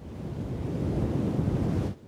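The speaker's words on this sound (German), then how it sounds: "Oh weia, das ist eine Riesenwelle." A big cartoon ocean wave, from Peppa Pig, surges and crashes in a loud, low rushing roar that swells for about two seconds and then cuts off abruptly.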